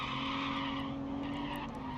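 Rally car spinning and skidding into a downhill braking zone in BeamNG, a sustained tire squeal and scrub over a steady engine drone, moderately loud and continuous, with no talk.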